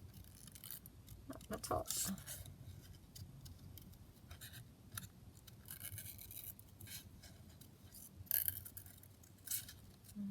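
Scissors make a series of crisp snips and scratchy cuts through paper while a junk journal pocket is trimmed, fairly quiet and close, with someone talking softly in between.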